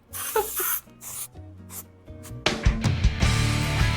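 Axe body spray sprayed onto hair, several short hissing bursts from an aerosol can, then a longer continuous spray close to the microphone, with rubbing sounds in between.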